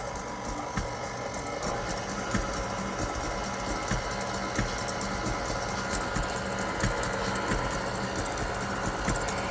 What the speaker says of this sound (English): I'm going to just give that a quick mix in my mixer.